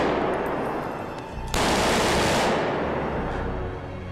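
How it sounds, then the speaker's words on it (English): Gunfire in a street, with loud bursts of shots and quick, dense reflections off nearby walls, followed by a sustained roar that fades away, with no voices. "If you imagine a gun firing in a street, the nearest wall is probably only, I don't know, 50 yards away or something"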